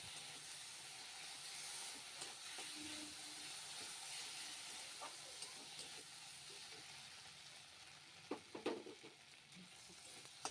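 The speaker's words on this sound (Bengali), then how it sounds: "জিরে, ধনে আর শুকনো লঙ্কা, এটা আমি ভালো করে বেটে রেখেছিলাম, সেটা আমি এখন দিয়ে ভালো করে আরেকটু কষিয়ে নিচ্ছি" A paste of ground cumin, coriander and dried chili sautés in a pan, giving a faint, steady sizzle and hiss. Stirring makes a few soft clatters and scrapes near the end.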